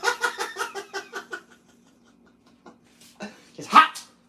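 A dog eating hot spaghetti gives a rapid run of about a dozen short snorting, sneezing huffs up close, then quiet, followed by a few scattered snuffles and one louder sharp sneeze-like bark.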